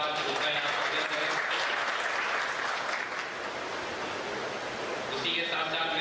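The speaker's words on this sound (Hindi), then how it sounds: "मैं चाहता हूँ आप लोग जोरदार तालियों के साथ उनका यहाँ स्वागत करें।" Loud, sustained crowd applause welcoming a guest at an NCP minority wing political gathering in Chandivali, a dense, steady wash of clapping that fills the hall throughout, with voices mixed in.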